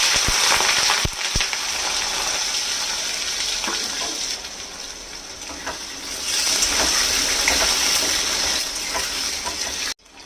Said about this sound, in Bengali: এখানে 4-5টা আলু কেটে নিয়েছি। সর্ষের তেল দিয়ে দিয়েছি, গরম হয়ে গেছে। দিয়ে দেবো